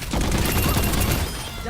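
Heavy rifle-like weapon in the Overwatch video game fires a rapid, loud stream of shots, a dense rattling burst that runs for over a second before easing off.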